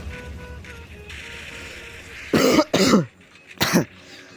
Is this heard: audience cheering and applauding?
no